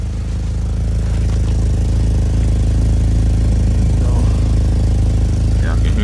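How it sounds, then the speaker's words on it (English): A Chevrolet Malibu engine idles steadily with an exhaust leak, a constant low rumble with faint ticking running unbroken throughout, close by. "besides like the exhaust leak that you can hear like from right here"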